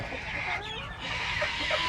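Chickens cluck close by in a short burst of overlapping calls over a low background hum.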